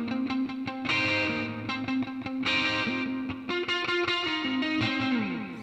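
An electric guitar in a guitar rig plays a distorted, sustained riff through a modulation effect, with delay and reverb, giving swirling, chorus-like tones and steady strummed and picked notes.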